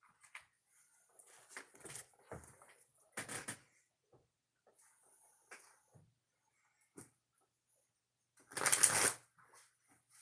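Oracle cards being shuffled by hand in quiet bursts of riffling and sliding, with several soft rustles and one louder, longer riffle near the end.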